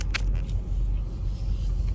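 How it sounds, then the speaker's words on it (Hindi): Traffic on Highway 401 in Toronto, a steady low rumble of vehicles at fairly close range with a few brief clicks near the start. "अब ट्रैफिक जाम की समस्या देखिए, यहाँ पर 401 कहते हैं"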